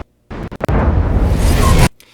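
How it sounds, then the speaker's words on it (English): A film's delayed explosion sound effect erupts after a few sharp clicks, a loud, rumbling roar that holds for over a second before cutting off abruptly. "you see the explosion and then you hear it"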